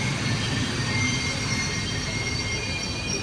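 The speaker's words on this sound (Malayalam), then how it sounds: "ഇവിടെ ട്രെയിൻ വന്നിട്ടുണ്ട് കേട്ടോ." A train at a station in Marrakesh, Morocco, giving a loud, steady rumble with high thin wheel squeal running throughout, no voices.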